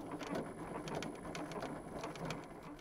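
A sewing machine stitches a seam on a fabric sewing machine cover, its rapid needle clatter steady and close, running continuously without any voices.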